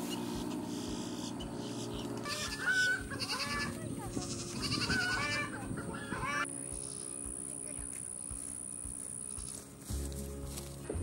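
Goats on a small homestead, both does and bucks, bleat in several short, wavering calls at middling distance. Quieter background murmur and rustling continue throughout.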